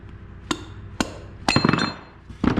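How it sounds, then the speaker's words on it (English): A rubber hammer taps on a part of a Stihl MS250 chainsaw during a tear-down, giving a few sharp, close knocks at an even pace, then a quick cluster of rattling hits and one final tap. "So here's the rubber hammer again."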